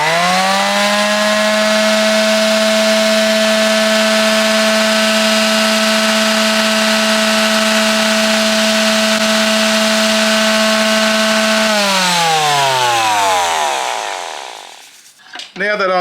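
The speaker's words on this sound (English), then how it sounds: "now when I turn on the sander" An electric sander runs on a Ridge Ryder 1500W pure sine wave power inverter, giving a loud steady motor whine that holds a constant pitch, then winds down and stops near the end.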